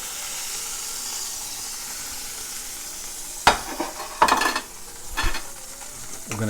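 Steak browning in a hot pan gives a steady, loud sizzle and hiss, broken by a few sharp scrapes and clanks of a utensil against the pan.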